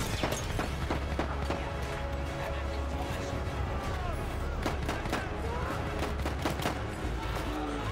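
Rapid, sharp pistol shots crack out repeatedly in Battlefield 1, mixed with other gunfire, impacts and a steady low battle rumble, with voices talking over parts of the fighting.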